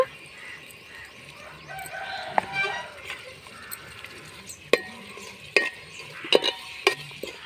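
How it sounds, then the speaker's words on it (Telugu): Onion fries in a pan as tomato-ginger paste is added and stirred, with a soft, steady sizzle under repeated spoon clicks and scrapes against the pan. "ఇప్పుడు ఇందులో పేస్ట్ చేసి పెట్టుకున్న టమాటా అల్లం వేస్తున్నాను"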